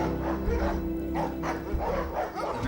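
A former Stasi tracking dog, kept as a retired service dog on the outskirts of Leipzig, barks in repeated close, loud bursts over a steady low background hum.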